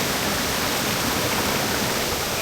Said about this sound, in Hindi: मैं तो दूसरी वाटरफॉल के करीब पहुंच गया हूँ।